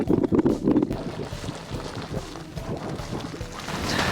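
Steady hiss and rush of the El Tatio geyser field in Chile at sunrise, at 4320 meters, blended with wind buffeting the mic, a continuous broad roar that swells slightly toward the end.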